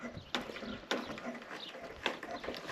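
A ratchet tightens fasteners outdoors on a ranch, giving a few sharp clicking bursts spaced irregularly over a quiet background, close and moderately loud.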